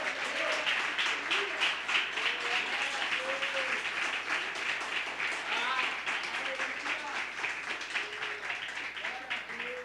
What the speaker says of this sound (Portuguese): Vamos dar uma salva de palmas para Jesus, irmãos